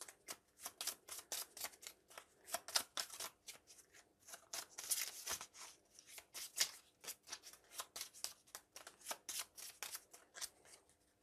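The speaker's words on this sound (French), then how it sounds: "On va remélanger le paquet." A deck of Marvel Champions cards shuffled by hand at close range, with rapid crisp riffles and flicks in repeated bursts and brief pauses between them.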